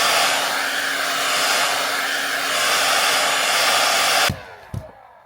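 A hair dryer blows steadily and loudly while drying a wig, then cuts off abruptly near the end, leaving a couple of brief handling knocks.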